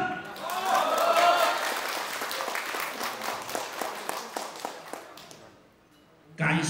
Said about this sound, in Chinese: 掌声给辉哥。